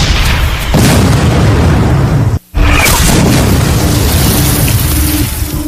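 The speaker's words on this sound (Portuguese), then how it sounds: "e ficou conhecido como Investida de Pickett, era barrado a tiros de canhão." Cannon fire at the Battle of Gettysburg during Pickett's Charge, a loud, continuous rumbling barrage of booms with a brief cut to silence near the middle before the roar resumes.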